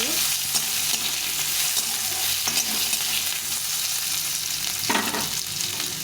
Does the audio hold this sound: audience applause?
no